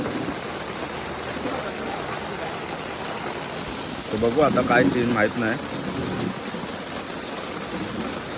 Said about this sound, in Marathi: पाऊस बघा फुल जोरात आहे